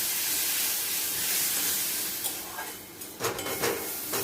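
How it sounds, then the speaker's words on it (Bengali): Cumin and turmeric paste mixed with water hitting hot oil in a pan for a Bengali hilsa curry with pumpkin and eggplant, a loud, steady sizzling hiss that flares in sharp spurts toward the end. "এবার জিরে আর হলুদটা জলে গুলে ওই তেলের মধ্যে দিয়ে দিলাম।"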